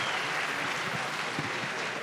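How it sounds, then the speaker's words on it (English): A conference audience applauding steadily at a Bitcoin event, a dense wash of clapping that stays even and fairly loud throughout. "So big round of applause to Natalie."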